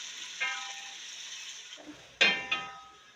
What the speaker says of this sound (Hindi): आपने अच्छी तरह ब्राउन कर लेना है प्याजों को।